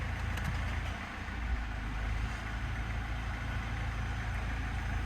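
A Mercedes CLS engine idles with a steady low rumble and constant hum, close and even throughout with no voices.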